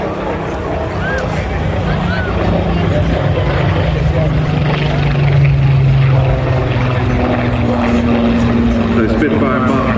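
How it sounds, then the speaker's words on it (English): Rolls-Royce Griffon-engined Spitfire Mk 19 passing overhead at an air show, a steady droning engine tone that swells and shifts in pitch as it crosses, heard under outdoor crowd noise. "You like the sound of a Griffon engine as well."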